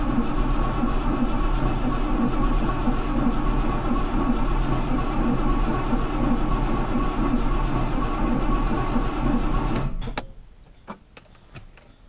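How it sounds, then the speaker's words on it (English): A 1968 Rover P5B V8 engine cranks on the starter after a winter break, a loud steady rhythmic churning for about ten seconds that then stops, followed by a few faint clicks. "let's crank it up again and see if my oil pressure light goes out"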